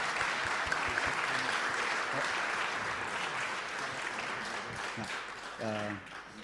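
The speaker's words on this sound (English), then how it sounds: "let's give him a round of applause." A graduation ceremony audience gives a sustained round of applause, dense and even for several seconds, fading as a voice begins speaking near the end.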